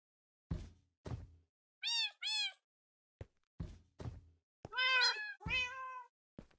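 Cats in Minecraft meow several times, in short upward-sliding calls, some in quick pairs, among a series of hollow knocks and thuds, with no one talking.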